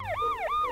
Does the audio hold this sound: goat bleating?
no